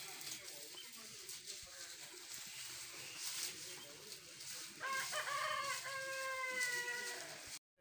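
Chickens cluck and a rooster crows inside a cattle shed for milking animals, with a loud, drawn-out crow in the final seconds rising over a steady, noisy farmyard background.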